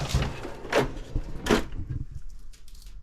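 A toolbox drawer slides open with a few quick metallic scrapes and rattles in a quiet room.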